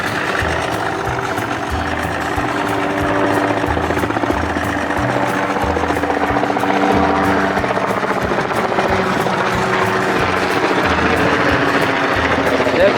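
A Johnson 25 hp outboard motor runs steadily with a fast pulsing drone, loud and close throughout, holding an even rhythm from start to finish.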